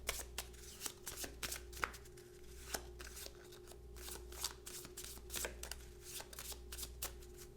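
Arkham Horror card game cards being shuffled by hand, a rapid series of crisp riffling snaps and flicks close by, repeating in quick bursts with a low steady hum underneath.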